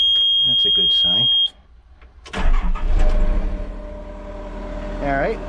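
A skid steer that has sat unused for a while starts up. A high electronic beep comes first and a voice talks briefly, then the engine cranks and catches into a loud, rough idle that runs to the end.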